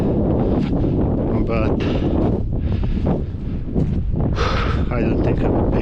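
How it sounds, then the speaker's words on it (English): Wind gusting across an open pasture beside a seasonal stream, a heavy, constant roar buffeting the microphone throughout, with a person talking briefly underneath. "it is quite windy"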